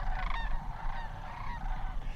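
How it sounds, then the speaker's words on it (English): A large flock of migrating cranes in fall gives a steady chorus of bugling and honking calls, dense and overlapping, heard from a close viewing area with no talk. "we're talking about thousands and thousands of cranes that you can follow"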